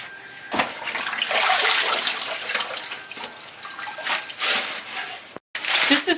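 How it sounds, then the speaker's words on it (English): Soaked bedding material for a worm bin is wrung out by hand, giving a steady run of splashing, trickling water close by, with one short silent gap near the end. "I wring out any extra water"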